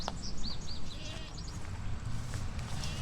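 Goats bleating in a garden as they are turned into an area fenced with poultry netting; several short, fairly close bleats sound over steady outdoor noise and low rumble.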